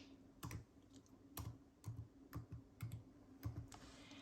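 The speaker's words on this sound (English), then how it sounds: "So I'm going to type in French." Quiet clicking of keys as tags are typed on a computer keyboard, about a dozen light taps in an uneven rhythm, close and alone with no talking.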